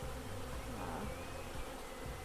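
Dense, steady buzzing from a large swarm of very active bees just released from a box, filling the air continuously at close range with no talking.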